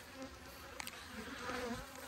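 A dense, faint buzz of many honeybees hovers around an open beehive during an inspection of a queenless colony, with a brief tap partway through and no talking.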